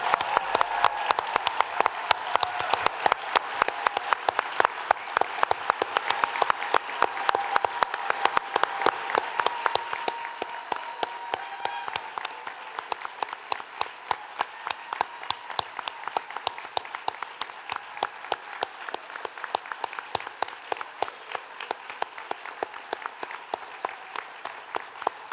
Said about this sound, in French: ça vaut la peine d'applaudir chaleureusement nos nouveaux CPA